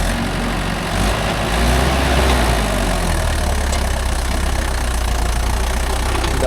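A Mahindra 415 DI tractor engine labours while loading stone with a backhoe, giving a steady, close, low diesel drone that holds throughout with no talking.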